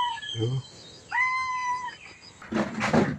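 A pet cat at a Thai temple in Lampang meows twice: a short low call near the start, then a longer, clear rising meow in the middle, close and fairly loud, followed by a burst of rustling or scuffling noise.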